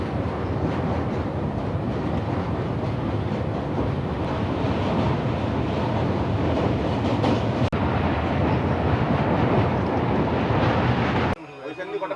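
A passenger train runs on rails between Guwahati and New Alipurduar in Assam, a loud continuous rumble and rattle heard from inside with wind buffeting, cutting off abruptly near the end.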